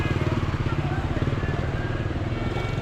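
Busy street traffic at the Luang Prabang market in Laos, dominated by a close, steady motorbike engine drone with a pulsing rhythm, blended with the general hum of town vehicles.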